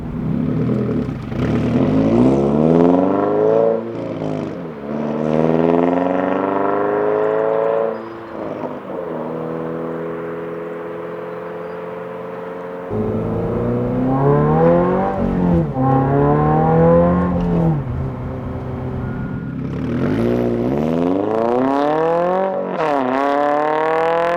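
A 2022-or-later Subaru BRZ revs hard through a loud, throaty AWE aftermarket exhaust, rising and falling in repeated pulls and sustained high-rpm roars, close up with no talking.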